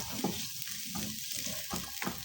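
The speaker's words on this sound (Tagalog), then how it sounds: "Uminit na yung ating mantika, ilagay natin yung luya, bawang sibuyas." Ginger, garlic and onion fry in hot oil for a chicken in coconut milk dish, giving a dense, close sizzle broken by soft stirring scrapes. No one speaks.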